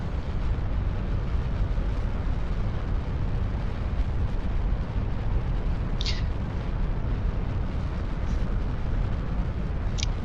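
Solid rocket boosters fire at launch in Kerbal Space Program, a constant loud roaring rush of thrust that holds steady throughout, with a few faint high clicks over it.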